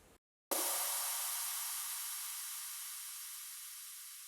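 A synthesized crash cymbal with distortion and reverb struck once after a brief silence, a bright, loud noisy wash that rings out and slowly fades.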